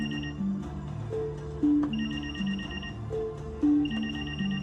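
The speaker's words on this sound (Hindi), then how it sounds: "फोन है सर।" A telephone rings in a film scene, a repeating electronic ringtone melody playing in two bursts, close and fairly loud, with no one talking over it.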